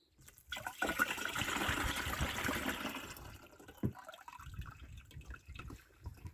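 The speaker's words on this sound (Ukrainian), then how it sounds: "А, тут у нас є вода, пів бачка. І це виливаємо в бачок." Water from a half-filled container pours into a garden sprayer tank while treating apricot trees, a steady splashing gush for about two seconds before fading to softer trickles and drips.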